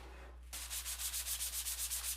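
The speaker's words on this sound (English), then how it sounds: "We'll just go ahead and sand that a little bit." Hand sanding a scratch with 400-grit sandpaper on a 5150 replica build: after a half-second lull, close, steady back-and-forth strokes rasp in an even rhythm, about eight passes.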